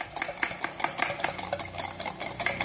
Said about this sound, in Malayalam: എനിക്ക് ഒരു അര ടീസ്പൂൺ ഏലക്കായ പൊടിച്ചത് കൂടി ചേർത്തിട്ട് ഒന്നും കൂടി ഒന്ന് ഇളക്കി കൊടുക്കാം.